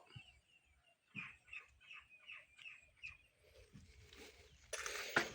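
Soft, repeated clucks from chickens in a short rhythmic series, fairly faint, followed by a louder burst of noise at the end.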